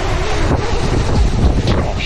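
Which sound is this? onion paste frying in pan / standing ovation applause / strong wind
strong wind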